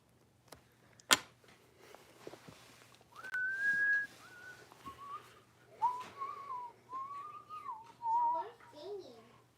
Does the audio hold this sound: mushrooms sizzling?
no